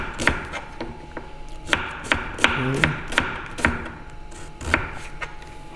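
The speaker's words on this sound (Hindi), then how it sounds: "तकरीबन 40 ग्राम प्याज जो है वो काटेंगे" A knife chopping about 40 grams of onion into julienne on a wooden board: crisp, close, evenly paced thunks, roughly two per second, with light rubbing between strokes and no talking.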